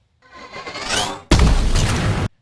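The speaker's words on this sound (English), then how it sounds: "the explosion sounds like a big cavernous thing all around you" A rising whoosh builds up and cuts into a loud, wide, rumbling explosion in a sound-replaced Overwatch reel, the blast sustained for about a second before stopping abruptly.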